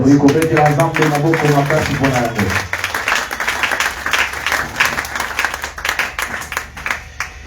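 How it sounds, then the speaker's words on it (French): A church congregation breaks into loud, sustained applause and cheering, steady rapid clapping filling the room after a voice finishes speaking at the start. "Est-ce qu'on peut acclamer très fort?"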